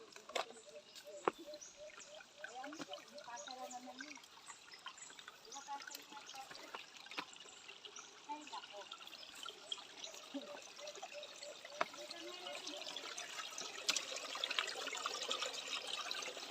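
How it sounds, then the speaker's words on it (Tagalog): A stream's faint trickling water runs quietly and continuously, with soft rural farmland ambience and scattered light sounds around it. "naririnig nyo lang yung tunog ng agos ng tubig"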